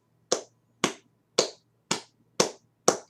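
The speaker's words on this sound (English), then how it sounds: "I'm gonna clap now." Six slow, evenly spaced hand claps ring out sharply in a quiet room, each one crisp and distinct with a short decay.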